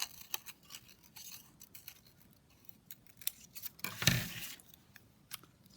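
Scissors snip through paper to cut out a small smoke shape for a winter silhouette scene, a series of soft close crisp cuts ending in one louder snip, with no talking.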